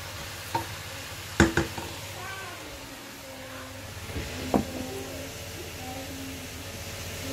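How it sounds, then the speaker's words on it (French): A spoon stirs a braised chicken mixture in a pan over a steady low sizzle, with a few sharp clinks and scrapes against the pan. "Bien mélanger"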